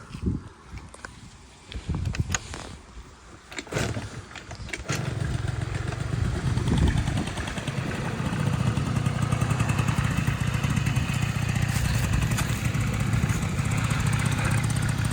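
A Honda Dio AF-34 scooter's small carbureted engine idles loudly after a few rough starts, settling into a steady, sputtering drone that runs close by for the rest of the time.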